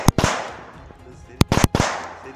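Celebratory gunshots fired in a bullet show at a political rally: sharp, loud cracks in quick clusters, a few at the start and a tight volley later, with voices and crowd noise between.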